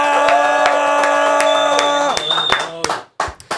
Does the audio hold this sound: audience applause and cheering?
yes